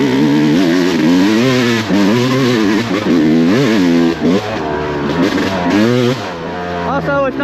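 A Yamaha YZ250X two-stroke dirt bike engine revs close up, its pitch climbing and dropping in repeated surges through gear changes, loud and continuous for the whole stretch.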